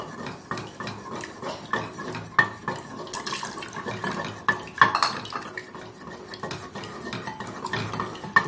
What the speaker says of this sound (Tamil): கிண்டிக்கிட்டே இருக்கணும்ப்பா அடி பிடிக்காமல் இருக்கணும்